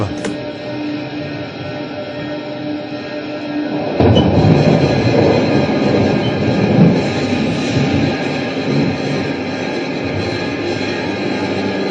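A train rolls steadily through a thunderstorm, a dense continuous rumble and clatter that swells louder partway through and then holds at a heavy, sustained level.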